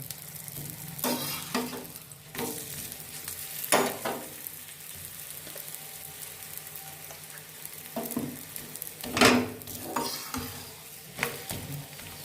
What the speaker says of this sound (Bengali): একটু সেঁকে নিয়ে এবার অল্প একটু তেল ছড়িয়ে দিলাম। এটাকে ভেজে নিতে হবে।